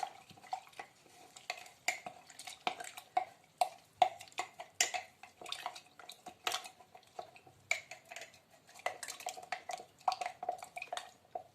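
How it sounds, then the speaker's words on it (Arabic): Water and corn flour are stirred into a gluten-free bread dough in a bowl, giving a steady run of soft wet slaps and sharp clinks of a utensil against the bowl, close and fairly quiet, with no talking. "هنا غندير واحد الكاس ديال الماء ونخلط"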